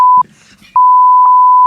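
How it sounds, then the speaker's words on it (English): A pure censor bleep tone sounds in short pulses, then holds as a long continuous beep. Clear and loud, with a brief murmur of voices between the first pulses. "I don't know which one was the censor button you were pushing, or the beeping button"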